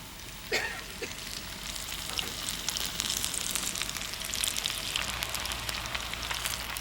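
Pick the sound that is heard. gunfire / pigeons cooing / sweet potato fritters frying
sweet potato fritters frying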